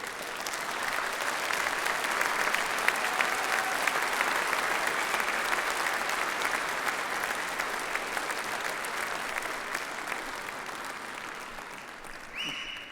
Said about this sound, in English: turn to face your family and friends with a round of applause